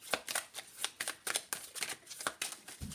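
Playing cards shuffled by hand in a run of quick, crisp riffles and snaps, close and moderately loud, with no talking.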